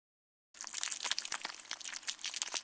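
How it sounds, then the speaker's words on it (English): A piece of paper being ripped and crumpled by hand as a sound effect, starting after a short silence with close, crisp crackling and tearing rustles continuing to the end. "he's making these sound effects by ripping a piece of paper and crumpling that piece of"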